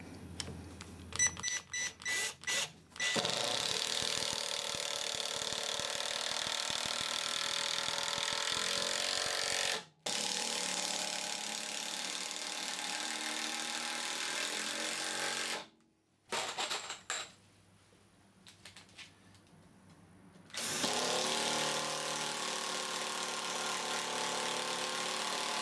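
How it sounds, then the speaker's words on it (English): A Milwaukee 12V impact driver drives screws in a series of long, loud rattling hammering bursts separated by sudden stops and short pauses, with a few quick clicks and trigger blips at the start. "you can actually drive it in with 1 hand quite easily"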